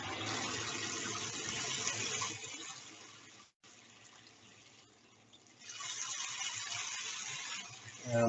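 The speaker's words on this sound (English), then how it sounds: "So water sound sample is a sound of running tap water with some" Running tap water in a recording used as a sample, a steady hissing flow that thins out in the middle after a brief dropout, then swells back to full strength, with no voices.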